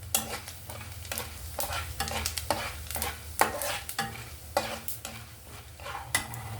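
Mustard seeds, fenugreek and cumin sizzle in hot oil while a spoon stirs them in repeated scraping strokes, a soft, steady frying hiss under the rhythmic clinks and scrapes.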